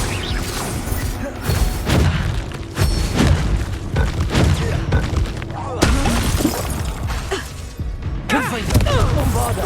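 Repeated Confringo spell blasts in the game Hogwarts Legacy during a duel, a run of loud booming explosions with shattering crashes and thuds, several bursts following one another closely.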